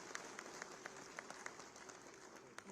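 An audience applauds at an official ceremony where a chief minister hands appointment letters to new school principals, the clapping faint and distant with sharper individual claps standing out.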